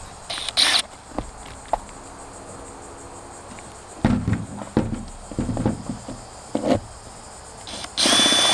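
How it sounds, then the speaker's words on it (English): Short bursts of a power drill whining outdoors, starting and stopping several times, with a longer steady run at the end; scattered handling knocks in between. "we're gonna drill the hole"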